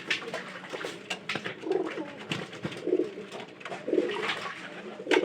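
Domestic pigeons coo over and over at close range, soft throaty calls rising and falling in short bursts amid light rustling, with no voices.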